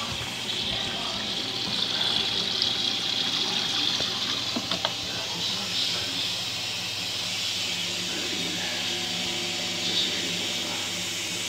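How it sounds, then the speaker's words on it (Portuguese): An LG Prime Touch WD10WP6 washer-dryer fills with water during the final rinse of a blanket load, giving a steady, low hiss of running water throughout, with faint knocks and no talking. "Porque o edredom ele vai, né, umedecendo e vai chupando a água."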